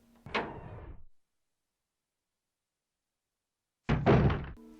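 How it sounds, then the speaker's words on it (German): In Resident Evil 1 a door sounds in two parts: a creaking wooden thunk, then a long silence, then a louder heavy clunk as it opens or shuts, close and echoless. "oder wie sich die Türen anhören"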